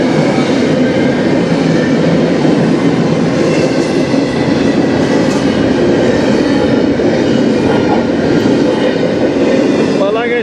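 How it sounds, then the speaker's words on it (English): Rare locomotive hauling a train past in Sarnia, Ontario, a loud, steady roar of engine and rolling wheels with faint clatter that holds for the whole stretch, heard close by without talk. "But like I said, that was a very rare locomotive. There's only one of those."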